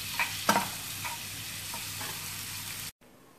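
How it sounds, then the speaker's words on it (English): Boiled potatoes being stirred and fried in a pan for Gujarati dabeli, a steady sizzle with a few scraping stirs of the spoon near the start, then cutting off abruptly near the end. "now here I am going to add some boiled potatoes"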